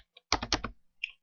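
A few quick keystrokes on a computer keyboard, soft close clicks in a short burst with a single tap after a brief pause.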